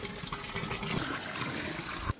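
Water running through a pipe from the house into a drum in a mountain cowshed for cattle to drink: a faint, steady gushing and splashing flow, continuous and fairly soft, with no talk.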